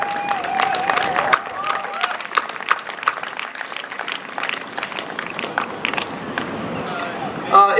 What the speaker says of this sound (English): So would everybody please join me in a round of applause for our veterans